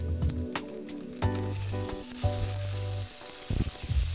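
Broad beans going into a hot frying pan with bacon for a salad: a steady close sizzle and frying hiss, with a few clattering stirs and pan knocks on top, no voices.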